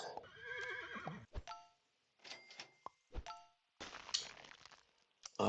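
A video game horse neighs from Super Auto Pets, a short cartoonish whinny followed by sparse clinks, dings and soft thunks of game effects separated by silent gaps.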